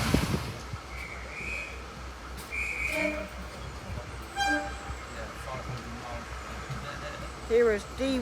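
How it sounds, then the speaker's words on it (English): Class 52 Western diesel locomotive D1015 pulls away from Stogumber Station on a heritage railway, its low engine rumble steady beneath scattered whistles and horn toots from the platform, with people talking nearby. "Here is D1015 or D1015, depending on how you say it, leaving Stigumber Station, heading towards Minehead."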